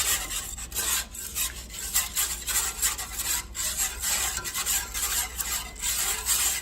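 A spoon scrapes and stirs thick milk sauce for chipped beef in a very hot pan, a steady continuous rubbing and scraping with soft rhythmic pulses throughout, close and fairly loud with no talking.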